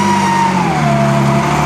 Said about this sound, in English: listen to that engine again